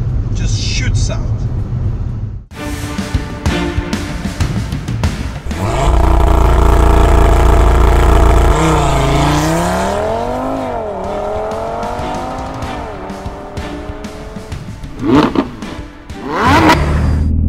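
An Audi RS3 launches hard off the line with traction control, its engine roaring up through the revs with gear changes and a brief tire squeal, loud and close, while someone talks over it.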